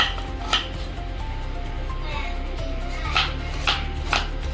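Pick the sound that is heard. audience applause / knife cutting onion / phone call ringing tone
knife cutting onion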